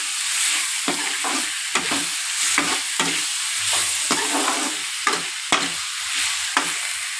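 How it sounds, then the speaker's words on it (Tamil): Food for egg gravy sizzles and crackles in a hot pan while a utensil stirs and scrapes in regular strokes, close and continuous. "நல்லா வதங்கட்டும்."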